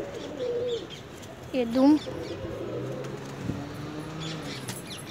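A captured pigeon gives a short burst of cooing in the middle, a close, low throaty call that stands out briefly while someone talks over steady outdoor background noise.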